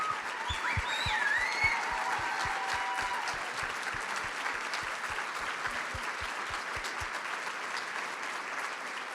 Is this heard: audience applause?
yes